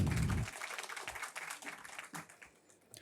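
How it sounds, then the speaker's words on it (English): Conference audience applause for speakers, loudest at the very start and then thinning into scattered, softer claps that taper off over a few seconds. "Can we have a huge round of applause for our speakers?"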